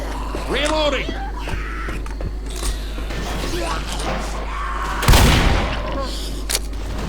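A loud, sudden explosion in Left 4 Dead erupts partway through, a heavy booming burst over ongoing game noise and mechanical clatter, with a player's voice heard earlier.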